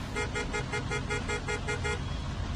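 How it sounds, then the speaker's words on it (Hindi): Vehicle horns honking on a busy highway packed with traffic, a rapid series of repeated toots over a steady roar of engines, loud and close with no talk. "सभी गाड़ी चलाने वाले जोर जोर से हॉर्न बजा रहे थे"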